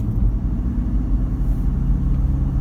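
A 2019 Toyota Prado with a six-speed automatic pulling away out of a roundabout, its engine a steady, loud, close rumble heard from inside the cabin with no talking.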